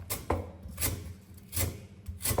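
A knife slicing raw ingredients for a spicy tam sua salad with rice noodles, giving about four soft, close cuts in a steady rhythm over a faint, constant background noise.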